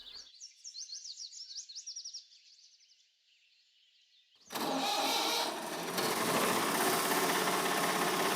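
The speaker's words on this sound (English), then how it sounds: "Quite a cool sounding tractor though, isn't it?" An old tractor in Farming Simulator 22 starts up after a few seconds of chirping birdsong, then its engine runs loud and steady in a dense, rumbling drone that holds to the end.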